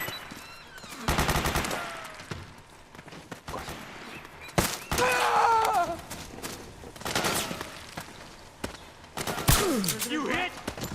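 Metal Gear Solid 4: Guns of the Patriots gameplay with bursts of machine-gun fire and scattered gunshots in a jungle firefight, mixed with soldiers' shouted voices and faint footsteps.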